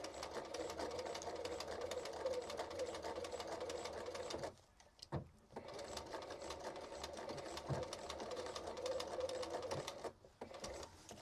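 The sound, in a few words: sewing machine stitching a Victorian skirt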